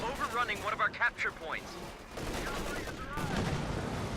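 Machine gun and rifle fire crackle in a Company of Heroes 2 battle, sharp bursts and rattling volleys at moderate distance alongside rumbling explosions, with voices speaking over the first half.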